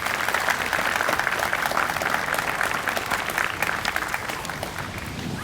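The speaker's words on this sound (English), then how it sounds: "We can give them a round of applause for attending." Steady applause from an outdoor crowd at a Pride flag-raising ceremony in Quincy, honoring the attending officials; dense, even clapping that holds at a fairly loud level throughout.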